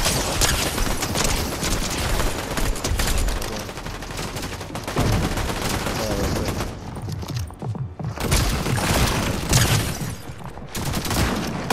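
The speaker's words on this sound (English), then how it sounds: "Somebody else is shooting at the guy too that's chasing you." Fortnite gunfire during a duo match, a continuous loud crackle of rapid shots and overlapping bursts, several weapons firing at once, close and sustained with only brief dips.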